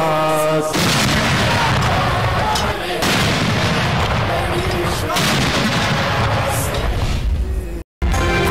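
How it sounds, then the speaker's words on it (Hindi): Continuous loud booming blasts of a 21-gun cannon salute roll one into another like heavy gunfire, with a brief cut near the end; no clear speech. "चारों सूबाई दारुल हुकूमतों में 21-21 तोपों की सलामी"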